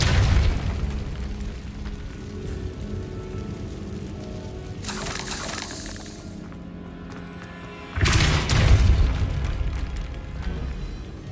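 Incendio fire spell cast in Hogwarts Legacy: loud, booming bursts of roaring flame, one at the start, another around the middle, and a heavy crackling blast near the end, over a low rumbling game ambience without speech.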